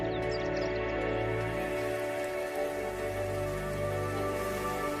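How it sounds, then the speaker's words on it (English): Steady downpour of long-awaited rain falling after a drought on parched land, a dense continuous hiss filling the scene with low rumble beneath, no voices. "Within days, massive clouds gather, and the long-awaited rain returns."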